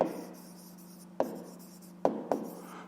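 Pen writing numbers on paper during a fifth-grade maths exercise, a soft continuous scratchy scribble with a few sharper taps of the pen, close and quiet, no talking.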